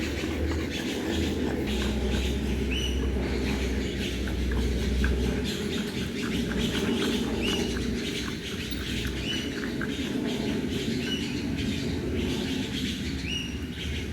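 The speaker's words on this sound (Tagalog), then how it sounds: "itong mga ibon na napakaingay dito sa may gubat" Many birds chirping and squawking in a dense forest, a continuous busy chorus of calls at moderate distance over a steady background hum, no talking.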